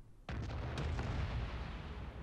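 Naval cannons on a warship in World of Warships fire in one sudden heavy boom that rolls into a long, loud rumbling roar with a second muffled blast inside it.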